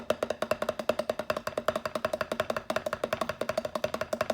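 Drum sticks rattle out rapid, even 32nd notes on a practice pad, a dense stream of sharp dry taps with regular accents, close and clear with no talk.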